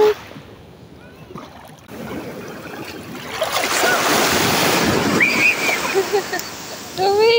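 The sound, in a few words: strong ocean waves at Terengganu beach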